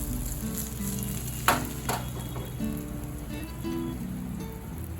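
Shahi jeera, caraway seeds, sizzling in hot oil in a pan, a steady crackling fry with a couple of sharper pops as the seeds hit, close and continuous with no talking.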